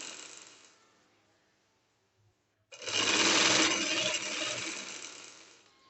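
A sewing machine runs a double line of stitching along a trouser hem, a steady close whir that starts abruptly after a quiet pause and holds for several seconds.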